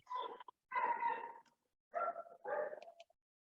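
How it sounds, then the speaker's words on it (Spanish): A dog gives several short, high whining barks and yips in two bursts separated by a brief pause, fairly faint. "Estamos escuchando un perrito."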